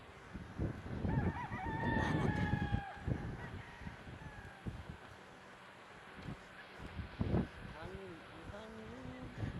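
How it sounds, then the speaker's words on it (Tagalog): A rooster crows and hens cluck nearby while a person talks over the farmyard sounds. "Mas makikita natin yung ating mga manok."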